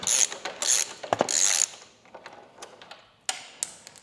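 A ratchet tool clicking as a nut is undone on the rear suspension of a Ducati Desert X motorcycle, quick bursts of sharp mechanical ticks separated by short pauses, close and clear with no talk.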